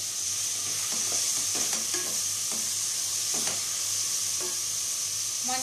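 Onions fry in a pan with salt and turmeric powder, sizzling steadily up close while a spoon scrapes and stirs in irregular strokes, with no voices.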